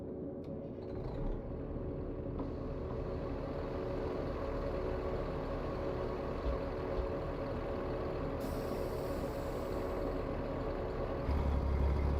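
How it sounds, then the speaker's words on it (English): A Cummins ISX-15 diesel truck engine in the video game American Truck Simulator rumbles steadily with a low, dense drone throughout, with a brief hiss of air partway in. "We're going to get the Cummins ISX-15 fired up, or X15 if you will"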